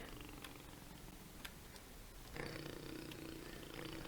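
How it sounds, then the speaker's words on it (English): A low, steady rumbling purr of jaguars in Minecraft drones continuously with faint ticking clicks over it, growing slightly louder partway through. "Sounds like they're purring."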